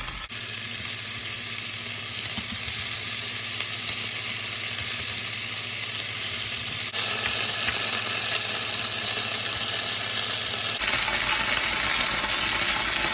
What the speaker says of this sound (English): You're gonna put more oil on high heat and then you're gonna cook the meat.